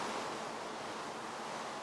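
Steady rain falling in Minecraft (Tekkit Lite) with Sonic Ether's Unbelievable shaders, near a pond; a dense, continuous hiss that stays even and fairly loud throughout, with no voices.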